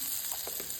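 Cumin, mustard seeds and asafoetida sizzle in hot oil, a steady close-up hiss with a few soft crackling pops from the spices and no talking.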